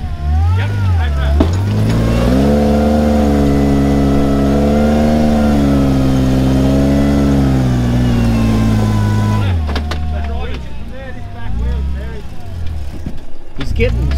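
A loud car engine revs up and holds at high pitch for several seconds at a spur track, then drops off as people talk nearby.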